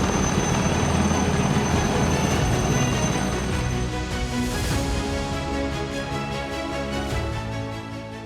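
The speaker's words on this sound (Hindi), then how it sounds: "5 चेतक हेलीकॉप्टर और 1 प्राइवेट हेलीकॉप्टर की मदद ली जा रही है।" A Chetak helicopter flies over a landslide rescue in Uttarakhand, its engine and rotors a loud, steady droning roar that lingers and slowly fades toward the end, with no voices.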